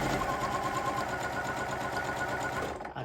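A sewing machine fitted with a walking foot runs fast and steadily while stitching placemats, a continuous close mechanical whir with rapid needle patter that slows and stops at the end.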